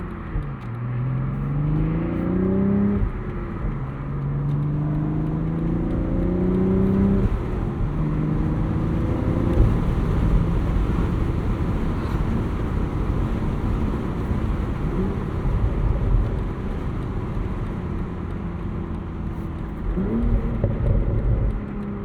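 A 2025 BMW Z4 roadster with a six-speed manual and 382 horsepower accelerates through the gears, its engine note rising and dropping with each shift over heavy wind and road roar, loud and close.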